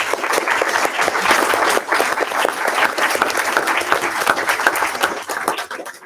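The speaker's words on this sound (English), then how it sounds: "Now is a time to applaud." Sustained, dense applause from a board meeting audience fills the whole stretch at steady strength, easing slightly near the end, with no talk over it.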